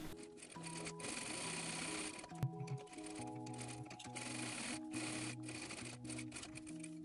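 A sewing machine runs steady bursts of stitching along a denim shorts pocket, sewing a top row of double stitches, with a brief knock partway through and short pauses between runs.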